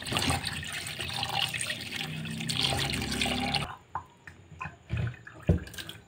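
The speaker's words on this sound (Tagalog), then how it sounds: "lagyan natin ng isang basong tubig at pangalawang tubig" A glass of water poured into a cooking pot makes a loud continuous splashing gush for several seconds, then gives way to scattered drips and small splashes.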